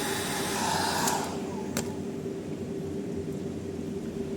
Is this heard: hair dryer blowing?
yes